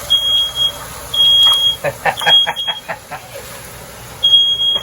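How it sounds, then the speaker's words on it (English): A smoke alarm beeps in loud, piercing, repeated bursts during chili cooking at a campground, with chickens clucking and faint voices in between. "The smoke detector is super sensitive."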